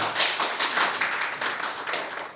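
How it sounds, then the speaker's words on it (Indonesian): A crowd claps together at an Indonesian presentation event, the applause steady and dense for a couple of seconds. "Tepuk dulu."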